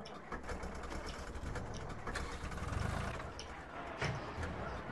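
An old tractor engine idles in Farming Simulator 2013, a steady low throbbing chug with slight swells in loudness, close and continuous with no talk over it.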